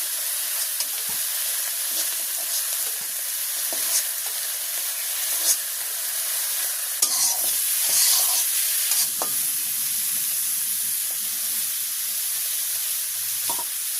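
Eggplant pieces sizzle and hiss steadily in hot oil in a pan during village home cooking, with occasional stirring scrapes and clinks breaking through the continuous frying.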